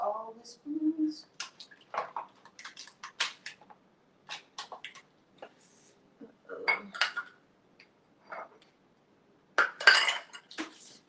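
Metal spoons clattering and clinking against dishes in a home kitchen while preparing icing, scattered sharp clinks and short rattling bursts, close by, with pauses between and no talking.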